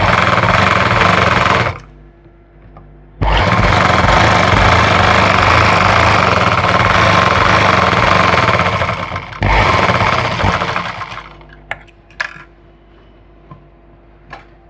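Electric sewing machine stitching a salwar leg, loud rapid mechanical whirring in two long bursts separated by pauses, then quieter handling clicks and knocks as the fabric is adjusted.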